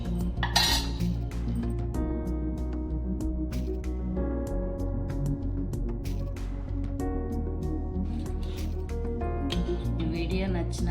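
Metal spoon clinking and scraping against a cooking pot while toor dal is stirred into chukka kura pappu, with steady repeated clinks over a constant background hum.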